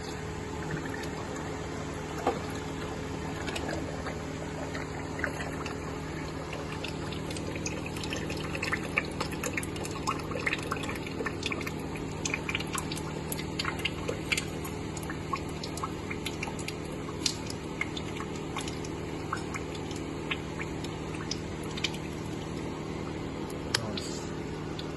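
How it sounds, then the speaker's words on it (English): Oil drains steadily out of a Rapier H120 car, a continuous liquid pour and trickle with scattered drips over a low, constant background hum, fairly close and with no talking. "oil coming out. Pretty speed actually."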